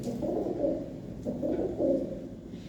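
Red Chinese pigeons coo close by in soft, throaty repeated phrases, three or four rounds in quick succession.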